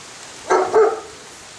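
A neighbouring dog barks a short burst of two or three loud, close barks, standing alone over a quiet background with no talk.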